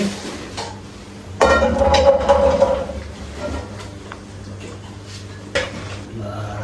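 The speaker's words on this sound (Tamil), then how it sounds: "நல்லா கிளறி விடுங்க ஃபுல்லாக இந்த உருளைக்கிழங்கு மிக்ஸ் பண்ணிக்கலாம்" A spoon scrapes and clatters against a pan as a potato mixture is stirred, with a louder burst of metallic scraping in the middle and a brief clink near the end, no talk.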